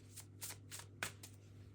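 Playing cards are shuffled and one is drawn from the deck, giving a quiet run of four or five quick riffling flutters close by with no talk.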